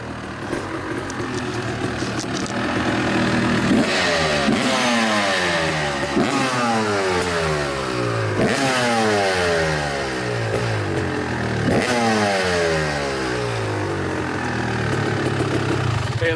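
A 1989 Honda CR250R two-stroke motorcycle engine revving repeatedly, each blip rising to a high ringing wail and falling back, a raspy close-up cycle of roughly six revs over a steady idle.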